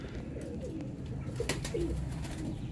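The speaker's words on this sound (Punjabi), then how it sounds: "ਜ਼ੀਰੇ ਸ਼ਰਮੀਲੇ ਕਬੂਤਰਾਂ ਦਾ ਸ਼ੌਕ" Rare Zeera Sharmeela pigeons coo softly in a Sialkot loft, a low, close, steady burbling with a few soft wing flutters in the middle.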